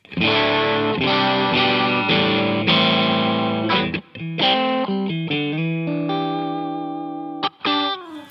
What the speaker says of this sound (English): now we're on the dirty channel of the Stereotone OTS Mini 20